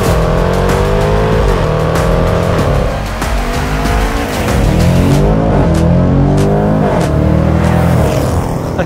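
A 2024 Jaguar F-Pace SVR with a 5-liter supercharged V8 roars loud and close, its pitch climbing and falling through repeated hard accelerations and shifts, with tire squeal mixed in and no talk.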